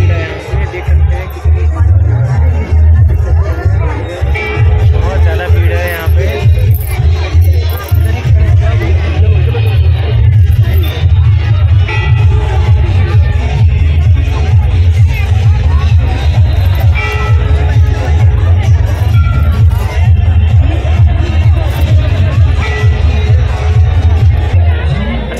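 A large crowd packs a Chhath Puja ghat, its dense, steady babble of many voices rolling on loud and continuous with scattered calls and occasional cheers rising through the throng.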